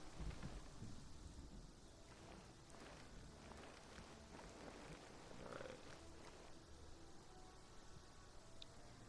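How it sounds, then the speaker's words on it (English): Rolling thunder and steady rain from the Prehistoric Kingdom video game, a broad continuous wash of rainfall with deep rumbles building and fading across the whole stretch, heard alone without talk. "I thought that was actual thunder. It's just in game."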